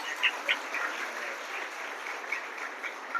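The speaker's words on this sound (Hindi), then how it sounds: "कृपया करके तालियां बजाकर उसका स्वागत कीजिए।" Moderate audience clapping welcomes a guest at a motivational talk, a steady patter of hands from a modest crowd with a few sharper individual claps standing out.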